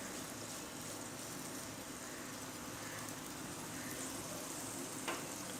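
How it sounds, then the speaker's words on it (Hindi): Reshmi kababs shaped by hand fry in hot oil with a steady, low crackling sizzle that stays even throughout. A faint rumble sits underneath, and one small clink comes near the end. No talking. "ये हमारा ऑयल गरम हो चुका है, अब इसे आराम से इनको हम फ्राई करते हैं"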